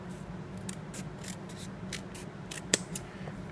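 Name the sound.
EDC scissors cutting rawhide leather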